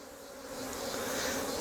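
Dense, steady buzzing of a honeybee colony swarming close around an opened nucleus hive during an inspection, a continuous drone that swells slightly louder partway through, with no talk.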